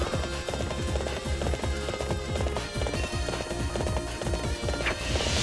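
A horse gallops in the game Warriors Orochi 3 with rapid, rhythmic hoofbeats drumming steadily throughout and a layer of music and game noise around them, near and fairly loud.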